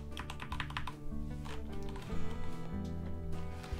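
Typing on a Gamepower Saber RGB gaming keyboard with red switches, a dense run of close, quick key presses over a low tonal background.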